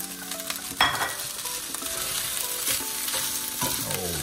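Shrimp fried rice with green onion tossed in a pan, a close steady sizzle with scraping utensil strokes and a sharp clatter near the start, no voices.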